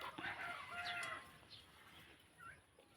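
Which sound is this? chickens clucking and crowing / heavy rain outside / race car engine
chickens clucking and crowing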